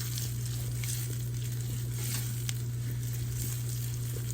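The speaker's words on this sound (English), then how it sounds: "we're going to toast our pecans, get them nice and toasty and roasty" Pecans toast in a hot pan with a steady, even sizzle and faint crackle, close and continuous, with a low electrical hum underneath and no talking.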